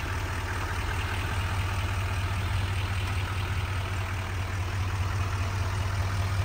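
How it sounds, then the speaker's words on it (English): A Duramax diesel truck engine idles with a steady, rumbling low drone and constant mechanical hiss, unchanging from start to finish. "Let's take a look at the engine while she's running."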